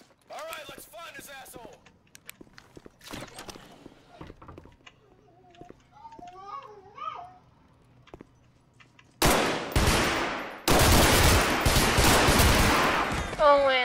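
Bursts of loud gunfire in the video game Garry's Mod come in two heavy volleys near the end, after quieter clicks, mechanical handling sounds and brief speech earlier on.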